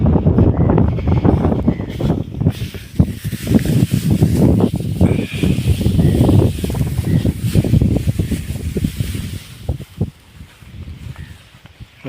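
Strong wind blowing outdoors, buffeting close and loud with gusty rumbling and rustling throughout, no speech.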